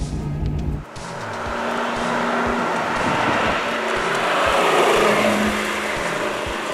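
A 1985 Lamborghini Jalpa is driven hard, its engine wailing at high revs as loud, steady road and wind noise surround it, heard from inside or close by without talk.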